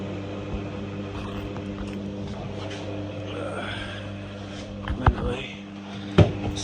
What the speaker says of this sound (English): Anyway, still got a pump going though.